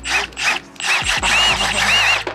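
Stubby cordless impact wrench driving a regular socket on brake caliper bolts of a BMW 335i, several short close-up bursts of whirring and hammering, the first two brief and separate, then longer sustained runs.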